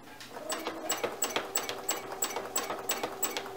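A domestic sewing machine running steadily while free motion quilting, with a fast rhythmic needle clatter and a faint high whine, close and moderately quiet, its sound slightly off.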